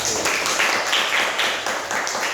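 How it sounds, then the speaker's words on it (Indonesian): Children in an elementary school classroom clapping for a group, a lively burst of applause from many hands lasting a couple of seconds, with a few voices faintly mixed in. "tepuk tangan untuk kelompok 1"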